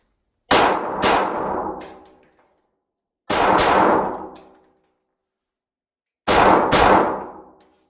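Pistol rounds striking an RE Factor Tactical steel target, three bright metallic clangs each closely paired with a second hit, spaced a few seconds apart, ringing out and decaying into silence.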